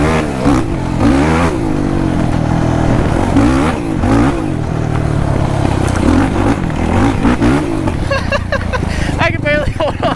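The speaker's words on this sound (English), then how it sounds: "Try to intentionally drift in these rocks." Off-road vehicle on GBC tires sliding sideways over rocks, its engine revving and surging loudly throughout with rattling clatter, close up, while people talk over it.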